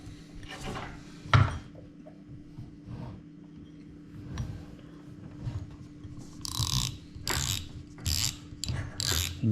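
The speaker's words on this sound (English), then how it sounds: "all you do is you undo your drag here, pop your spool off" Spinning-reel drag knob undone and the spool popped off, giving soft clicks, ratchet ticks and small plastic knocks, with a few louder bursts of handling noise near the end.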